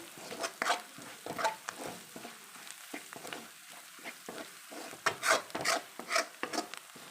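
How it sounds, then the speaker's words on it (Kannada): Washed mushrooms going into roasted masala in a pan for a mushroom roast, heard as quiet scraping and rubbing strokes with a faint sizzle, irregular stirring sounds coming in clusters. "ಈಗ ತೊಳೆದಿಟ್ಟಿರೋ ಅಣಬೆ ಹಾಕ್ಕೊತಿದ್ದೀನಿ"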